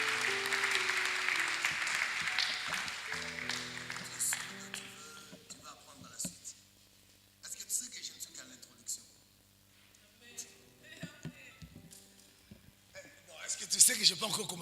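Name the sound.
congregation applause in church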